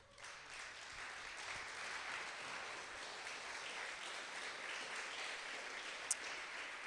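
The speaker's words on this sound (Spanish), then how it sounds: "dar un aplauso al Señor" A church congregation applauds during a Spanish-language sermon, producing steady, dense clapping that holds at an even level throughout with no voices over it.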